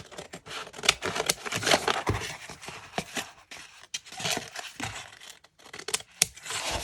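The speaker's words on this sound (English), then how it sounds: "Just cut with scissors." Scissors snip through sheets of scrapbooking paper close up, with quick rustling cuts and crinkling of the sheet in bursts over several seconds, no talking.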